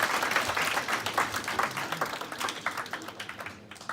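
A round of applause for an alumni panel at a college talk: a small audience claps together, dense at first and then thinning into sparser individual claps that taper off toward the end.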